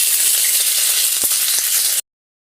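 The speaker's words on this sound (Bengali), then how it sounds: "তো সবার প্রথমে আমি শুকনো লঙ্কা দিয়ে দেব" Dried red chillies sizzling in hot oil, a loud, steady hiss with faint crackles that runs for two seconds and then cuts off abruptly.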